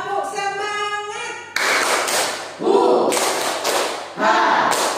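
A school class in an Islamic junior high claps together in a rhythmic spirit-clapping routine, with sharp, loud clap bursts in sections of the pattern, while voices chant along in between.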